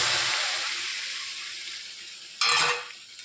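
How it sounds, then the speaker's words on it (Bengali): Fish fries in a pan with onion, ginger and garlic, hissing in a steady close sizzle, then flaring into a brief louder burst of sizzling as the pan is stirred. "পেঁয়াজ আদা রসুন কষিয়ে নিয়েছি নিয়ে এটা করে মধ্যে মাছের করে দিয়ে দিলাম দিয়ে নেড়েচেড়ে ভাজা ভাজা করা হয়ে গিয়েছে"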